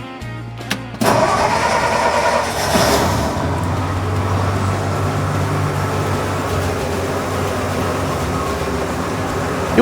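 A 1963 Ford truck engine catches with a brief cranking burst, then settles into a smooth, steady idle with an even low hum that runs on, close and fairly loud, with no talking.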